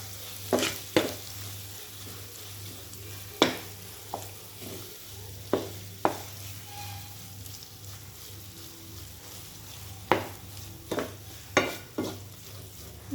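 Spiced potato filling for aloo paratha stirred in a hot pan, with a steady low frying hum broken by a series of sharp scraping clacks of the spoon against the pan, clustered near the start and the end.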